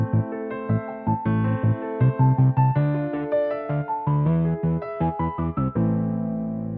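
A simple pulse synth plays short repeated notes alongside a rising and falling piano arpeggio, steady and clear with no voices.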